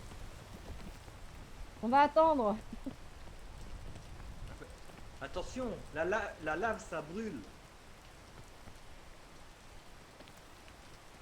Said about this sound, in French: fais attention à la pluie